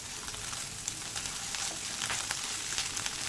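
Pieces of egg fry in a pan, a quiet steady crackling sizzle with scattered pops and no talk.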